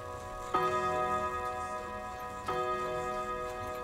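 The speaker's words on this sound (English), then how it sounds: "Would you like to hear the chimes?" Two resonant clock chimes ring out about two seconds apart, each bell tone lingering and fading under a faint ticking background.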